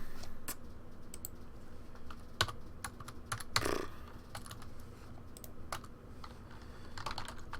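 A computer keyboard is typed on while code is written for a Roblox Lua script, irregular close clicky keystrokes in short bursts across the whole stretch, with no talk.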